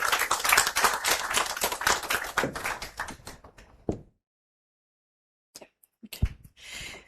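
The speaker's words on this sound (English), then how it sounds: "Please give a round of applause for her as she comes ahead." Audience clapping at an International Women's Day event, dense and steady for about four seconds, then breaking off into silence with a few scattered taps and small noises afterward.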